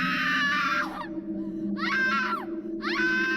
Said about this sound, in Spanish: A los gritos despavoridos de las niñas